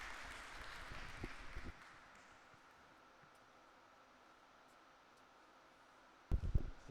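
Brief crowd applause at a Davis Cup singles tennis match between Singapore and Iran, a short burst of clapping that fades into quiet arena ambience, followed by another sharp burst of claps near the end.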